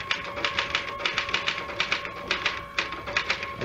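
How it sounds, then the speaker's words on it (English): Manual typewriter keys clacking in a steady, fast run of strikes, close and fairly loud, in a radio mystery drama, with no talking over it. "I sat down and started to type again."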